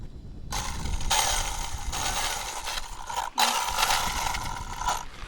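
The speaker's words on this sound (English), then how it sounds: "Let me rev it up." A Traxxas Slash RC car, built for a 100 mph top-speed attempt and now with a drivetrain problem, revs in several close, high-pitched whirring bursts with brief pauses between them.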